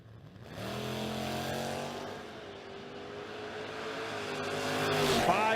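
A full-size Ford Galaxie and a Mustang roar down a drag strip, engines rising in pitch as they accelerate, and the sound swells toward the end as the cars pass close by. An announcer speaks over it.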